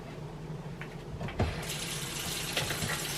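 Tap water runs into a kitchen sink while stew is prepared in a slow cooker, a soft steady hiss that grows fuller and louder partway through as the flow opens up, with no talk.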